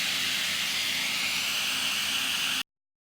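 Steam hisses loudly and steadily out of a pressure cooker with its whistle taken off while mutton trotters cook inside, a continuous broad rush that cuts off abruptly near the end.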